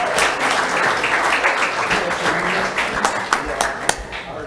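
An audience at a city council meeting claps along in a call-and-response cheer, with bursts of applause and sharp clap hits standing out near the end over a steady crowd murmur.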